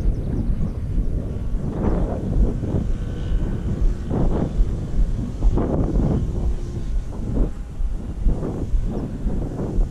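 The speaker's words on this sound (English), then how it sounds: "Getting a little more breezier." Wind buffets a microphone at an RC airfield in a continuous low rumble with gusty swells, loud and close, and no other clear sounds.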